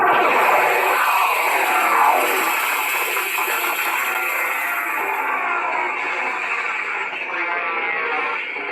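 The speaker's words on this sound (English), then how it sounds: "And then force effect." Scavengers Foundry Jedi Killer lightsaber playing its force effect, a sustained electronic hum with sweeping, wavering tones that stays steady and fairly loud for several seconds, with no one talking.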